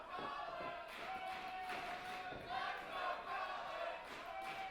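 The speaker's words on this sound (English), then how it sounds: "And the crowd is firing up for Colin Muldoon." A wrestling crowd in an arena roars and cheers for Colin Muldoon, a distant, diffuse swell with scattered thuds and shouts throughout.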